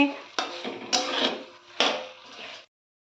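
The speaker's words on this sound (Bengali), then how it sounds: "এবার ভেজে রাখা পটলগুলো সব দিয়ে দেব ভালো করে একটু নেড়ে নেব মশলার সঙ্গে" Fried pointed gourd being stirred with spices in a pan, several close scraping, clattering strokes of a utensil against the pan in quick bursts, then silence.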